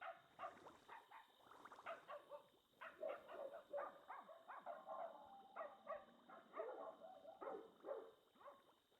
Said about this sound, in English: And that dog wanted to come inside my house.